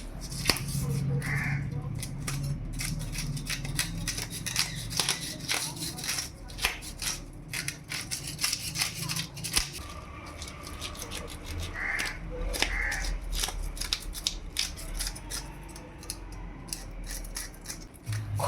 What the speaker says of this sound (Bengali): এবার অন্য পাশের আঁশ ছাড়িয়ে নেব।